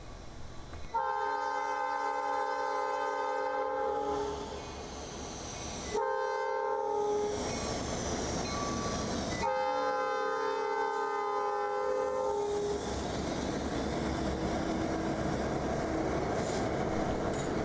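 A Bessemer and Lake Erie Railroad freight train rumbles past near Springboro, Pennsylvania, while its horn blows three long blasts, the last fading into the steady roar and clatter of passing cars.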